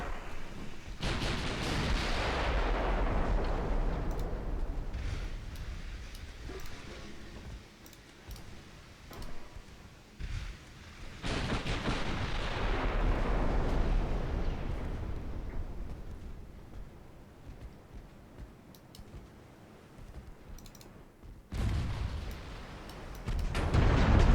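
Booming 4-inch naval guns firing high-explosive rounds in a warship game, three heavy rumbling blasts spaced several seconds apart, each trailing off into a long fading roar.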